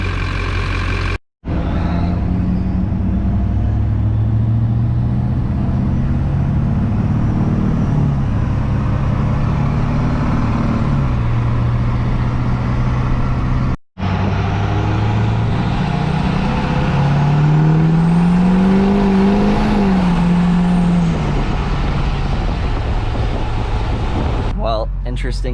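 A truck fitted with a full HSP turbo kit drives on the road, its engine and turbo whistle rising and falling in loud sweeping tones over steady road and wind roar, broken by two brief cuts.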